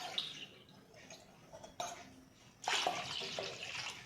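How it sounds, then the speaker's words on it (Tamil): Water poured into a sattu flour mix for porridge, a faint splashing trickle that starts and stops, then runs more steadily toward the end, heard close in a quiet kitchen. "இப்போ அது கூடவே இன்னும் 2 டம்ளர் தண்ணி சேர்த்துக்கிறேன்"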